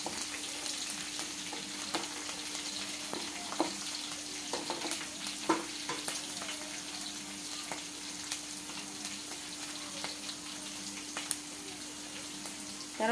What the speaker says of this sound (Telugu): కొంచెం గోల్డెన్ కలర్ వచ్చిన తర్వాత ఇంతలోపు వేయించుకోవాలి